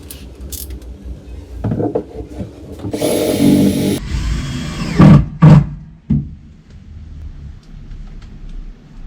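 A power drill drives screws into an upper ceiling cabinet inside a pop-top minibus camper, giving short whirring bursts of a few seconds amid knocks and handling clatter, close and fairly loud.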